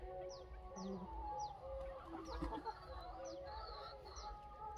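Several free-range desi hens cluck and squawk nearby in short, overlapping calls over a low, constant background hum.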